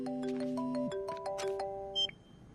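A short electronic telephone ringing tone plays a few melodic chirps, then cuts off with a brief high blip at the end.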